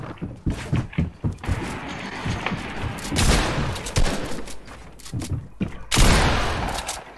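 Gunfire in the video game Fortnite Season X: rapid bursts of shots recur throughout, with a louder blast near the end, dense and close over a busy game soundscape.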